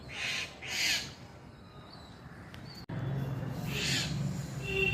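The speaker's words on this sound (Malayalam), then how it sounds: "കിളി വന്നിരുന്ന് വിളിക്കുന്നു കേട്ടോ" Two short bird calls rise from a quiet outdoor scene, followed by a steady low hum and another call near the end.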